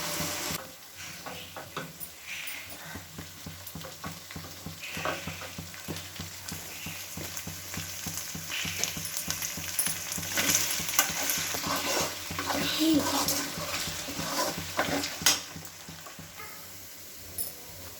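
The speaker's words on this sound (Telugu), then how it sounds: "చికెన్ బాగా ఫ్రై అయ్యి కొంచెం లైట్ బ్రౌన్ కలర్ వస్తుంది" Chicken fries in a pan while it is stirred. A constant sizzle runs under repeated scraping and clattering stirring strokes the whole way through, and no one speaks.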